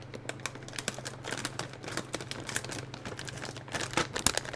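Scissors cutting open a bag of Buldak spicy chips, a close series of crisp snips and crinkling plastic rustles in an irregular rhythm, alone without talk.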